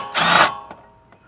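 A swivel socket backs out a 13 mm bolt on a 2014 AWD 3.6-litre Dodge Journey: one short, loud whirring burst followed by two faint clicks.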